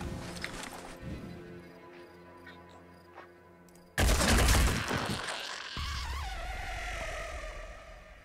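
Weapon fire in the Phoenix Point video game: quiet tonal game sounds give way to a sudden loud burst of gunfire, followed by a sustained noisy roar with a falling whine.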